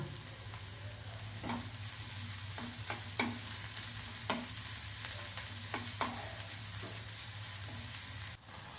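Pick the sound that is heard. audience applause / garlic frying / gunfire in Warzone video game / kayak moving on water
garlic frying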